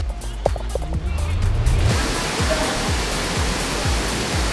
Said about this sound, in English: I'm walking to the waterfall.